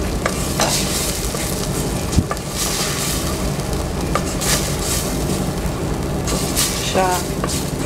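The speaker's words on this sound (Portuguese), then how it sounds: "Já fritar um pouquinho aqui a cebola." Chopped onion fries in a pan after a pinch of salt, giving a steady, close sizzle with scraping stir strokes and an occasional knock against the pan.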